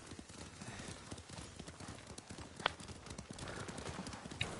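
Horses' hooves clip-clopping at a steady walking rhythm on a path in the video game Ghost of Tsushima, quiet and close, with a brief whinny and some faint talk in the background.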